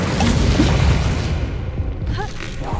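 Incendio fire spell cast in Hogwarts Legacy during a tomb fight, a loud booming burst with a whooshing fiery rush, followed by a brief tail amid combat noise.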